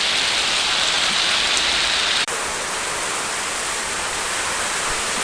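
Heavy rain pours down in a steady, dense hiss that fills the whole clip, loud and close, with a brief drop partway through before the downpour continues unchanged.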